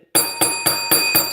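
A bright metallic stock market bell rings four times in quick, even succession, loud and close, each strike ringing on into the next.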